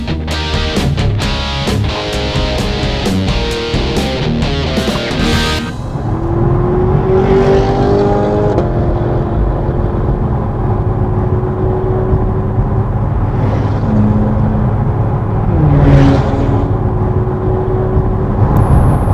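A group of supercars, a Corvette Z06, two Porsche 911 Turbo S models and a McLaren 570S, drives on scenic Muskoka roads with an Acura NSX following: a steady loud engine drone throughout, rising and shifting in pitch as the cars accelerate, with no talking.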